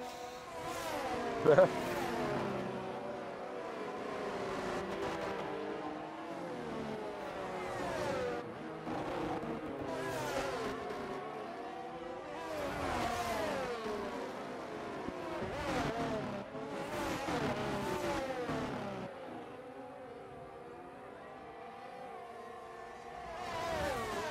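F1 race cars from a racing video game at Bahrain whine through gear changes and rising and falling engine pitch, several cars audible at once, with a commentator talking over the engines throughout.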